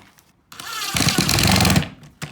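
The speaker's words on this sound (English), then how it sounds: "I pre-drilled these holes, and so now we're just gonna put the screws in." A drill drives screws into thin pre-drilled plywood on a bat house, a short burst of near, loud mechanical whirring and grinding lasting about a second after a brief quiet lead-in.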